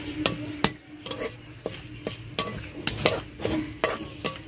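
Whole garam masala and two bay leaves being stirred in a pan, a spoon or spatula scraping and knocking against the metal in irregular clacks over a faint sizzle, close and fairly quiet with no talk.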